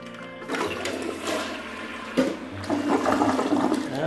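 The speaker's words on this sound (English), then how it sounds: "That's almost like the full flush." A dual flush toilet runs a full flush: water surges in with a rushing gurgle after a brief quiet start, then swirls and drains noisily for a few seconds.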